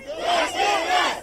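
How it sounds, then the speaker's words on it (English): A street protest crowd chants in unison, three loud rhythmic rising-and-falling shouts in quick succession, close and full, with no single voice standing out. "You hear the crowd saying, walk with us"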